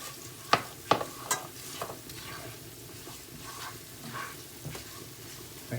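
Whole curry leaves, cumin and mustard seed frying in hot oil for an aubergine dish, a steady soft sizzle broken by a few sharp crackles and spoon scrapes near the start, fairly quiet and close.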